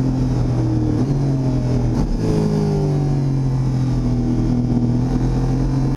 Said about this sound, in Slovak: motorka si trošku odpľuje do toho výfuku